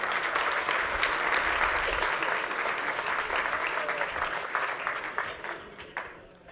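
An audience claps loudly and steadily at a talk explaining DevOps, a dense wash of many hands that keeps its level for several seconds and then thins into scattered claps as it fades.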